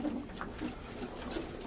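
Sivas and Urfa bozlak pigeons coo in a loft, several soft, rolling low calls rising at intervals over a faint background hum.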